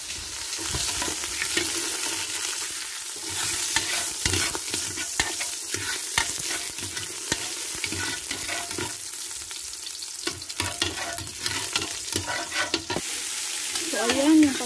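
Papaya and pork offal being sautéed in a pan, with steady close sizzling and frequent scraping stirs, a sharper burst of frying near the end.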